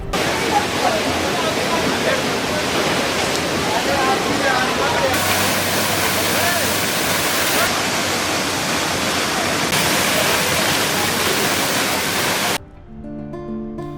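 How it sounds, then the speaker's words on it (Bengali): Seven Sisters waterfall beside a mountain road in North Sikkim, a steady loud roar of falling water throughout, with a brief quieter stretch at the very end. "পথ চলতে চলতে রাস্তার মাঝে একটি সুন্দর ঝর্ণার সামনে আমি দাঁড়ালাম"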